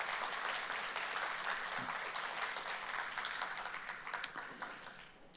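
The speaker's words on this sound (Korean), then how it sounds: "뜨거운 박수를 한번 보내주시면 감사하겠습니다" Warm applause in a church service in Kuala Lumpur: steady dense clapping from a room full of people holds for several seconds before slowly thinning out.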